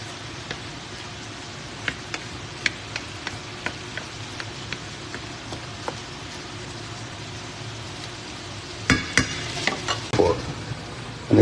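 Corned beef and spam with tomato and potato sizzle steadily in a frying pan, with a spoon stirring and tapping against it in irregular clicks, louder scraping near the end.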